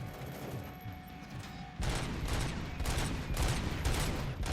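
Heavy weapons fire in first person in RoboCop: Rogue City, a video game. After a quieter lead-in, a loud burst of rapid, repeated gunshots sets in and keeps going as sustained automatic fire to the end.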